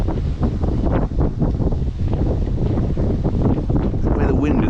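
Strong wind roars and buffets a microphone during a winter boat lift-out at a pontoon, a loud, steady rumble that swamps the scene, with muffled voices under it.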